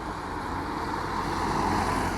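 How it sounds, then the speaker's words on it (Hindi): A white car speeding along a road, rendered as a steady rushing engine and road roar, moderately quiet and even from start to finish with no distinct pass-by. "रोड पर एक सफेद गाड़ी तेज रफ्तार से चल रही थी।"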